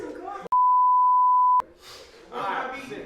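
A steady electronic beep tone sounds alone for about a second, loud and unbroken, with people talking before and after it.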